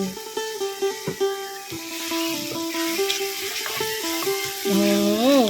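Spicy squid and pork stir-fry with dried chilies for pad krapao sizzles in a pan, a soft frying hiss running beneath prominent melodic background music.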